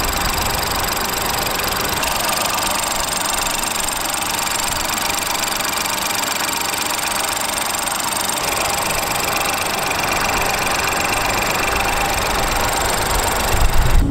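Engine of a 2018 Ford EcoSport, a 1.0-liter inline three-cylinder, heard as a steady broadband drone with a low hum running continuously while driving, with no voices over it.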